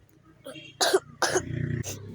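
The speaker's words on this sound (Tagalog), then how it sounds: "sorry kung umubo ako" A few harsh coughs in quick succession, close to the microphone, against a quiet low hum.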